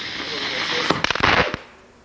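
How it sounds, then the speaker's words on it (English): A firework that shoots flaming balls goes off near a voice: a rush of hissing builds, then a rapid cluster of sharp pops and crackles for about half a second before tailing away. "The firework says shoots flaming balls."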